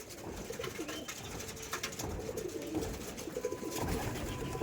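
Several green-eyed Madras pigeons coo in soft, repeated low calls, close by, overlapping one another against a faint background hum.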